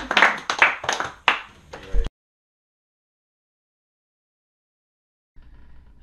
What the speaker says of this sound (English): Applause for all of us.